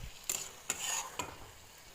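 A soft background sizzle as spices and potatoes are stir-fried, broken by three distinct scraping strokes of a spoon against the pan.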